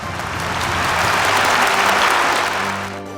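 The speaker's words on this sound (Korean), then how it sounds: "박수 부탁드립니다." Audience applause fills the hall in a dense, continuous wash, swelling slightly in the middle before fading toward the end.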